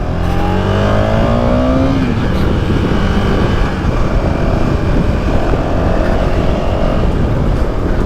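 A KTM Duke 250 BS4 motorcycle on a test ride, its engine revving up with a rising whine in the first two seconds before settling into a steady, loud, roaring drone mixed with wind rush.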